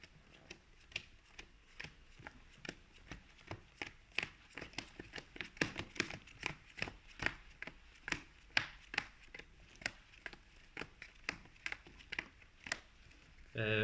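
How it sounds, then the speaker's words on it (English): Yu-Gi-Oh! trading card decks being shuffled by hand at a Speed Duel tabletop match, a long run of quick, crisp riffling snaps and flicks, close and fairly faint, with no talk. "we need to give our decks a good proper shuffle"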